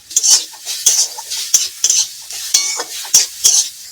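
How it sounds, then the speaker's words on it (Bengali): Snake gourd frying with cumin, coriander, mustard and poppy seed pastes and chili powder, stirred in the pan with about nine loud, rhythmic spatula scrapes over a light sizzle. "এবার একটু এপিট ওপিট ভালোভাবে লাল লাল করে ভেজে নেবো"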